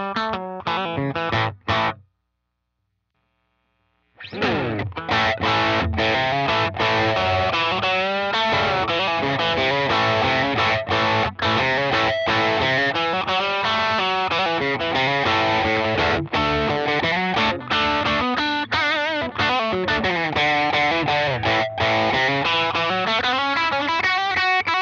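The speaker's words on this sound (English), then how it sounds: "The guitar I'll be using for this demonstration will be my Fender Naventa Telecaster" An electric guitar, a Fender Telecaster through a Maxon OD-9 overdrive pedal, plays gritty overdriven chords and riffs, loud and continuous after a short opening strum and a brief pause.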